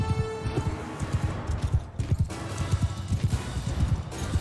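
A horse gallops in the video game Mount and Blade Bannerlord, with steady rapid hoofbeats drumming in close rhythm from start to finish, loud and unbroken by talk.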